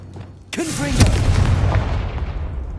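A Confringo spell blast in the Hogwarts Legacy game on PS5, heard as one sharp booming burst with a swooping tonal whoosh, followed by a long rumbling decay over a low background hum.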